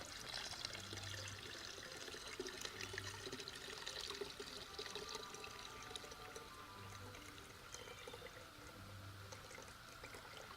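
Elderflower cordial poured from a container through a strainer into a jar, a steady soft trickle and splash of liquid running continuously throughout at low level, with no talking.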